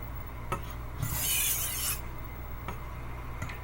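A 10-inch chef knife blade is sharpened, with one close, raspy stroke of steel drawn across the sharpening surface and faint ticks of handling before and after it.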